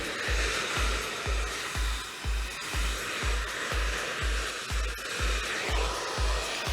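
A steady roaring whoosh of a hair dryer blowing continuously, close and fairly loud, with a regular low pulsing thump underneath.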